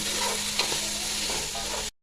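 Onions sautéing in a pan, a continuous close sizzle with a few light stirring scrapes, ending abruptly after about two seconds.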